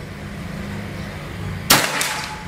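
A single sharp shot from a Bocap Escobar PCP air rifle firing a Hercules pellet at a 50 m range, one sudden crack with a short ringing decay against a steady low outdoor hum.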